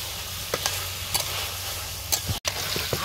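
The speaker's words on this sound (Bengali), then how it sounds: "মাংসটা ভাজা ভাজা হইতেছে" Meat browning in a pan with biryani spices, a steady sizzle with a low hum beneath and a few sharp spoon scrapes and clinks against the pan, ending briefly silent before stirring resumes.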